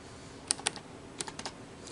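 Keystrokes on a computer keyboard while a message is typed into a programmable message sign: about half a dozen sharp, close clicks in two loose bursts over low room hiss, with no talking.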